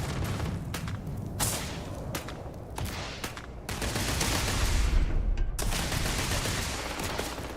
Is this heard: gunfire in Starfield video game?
yes